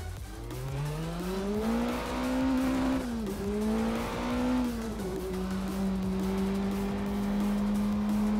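Street car engine in the Assetto Corsa racing sim, a steady drone rising and falling with throttle and gear changes, tire noise underneath, loud and continuous with no talk.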